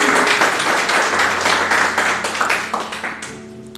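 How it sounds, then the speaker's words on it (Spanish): A church congregation claps together in a strong, sustained round of applause, dense and close throughout with a slight fade toward the end. "Vamos a darle un fuerte aplauso a la palabra de Dios."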